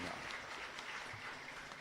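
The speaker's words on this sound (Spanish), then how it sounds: "Fuerte aplauso entonces para el Señor." Faint, distant clapping from a congregation at a Catholic Mass in a chapel in Areguá, Paraguay, a steady patter of applause for the whole short stretch.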